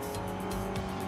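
Car tires slide and scrub in the Forza Horizon 5 racing game, a steady loud engine drone with a broad hiss of tire noise running throughout, no pauses.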